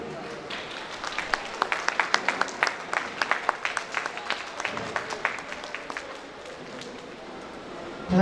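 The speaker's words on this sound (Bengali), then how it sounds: "আপনারা সবাই আমাদের আজকের প্রধান অতিথির সম্মানে দাঁড়িয়ে সবাই আমরা জোরে একটা হাত তালি দিই" A standing audience at a Bengali event claps for the chief guest, a dense patter of many hands steady for several seconds before tapering off, heard at a moderate distance.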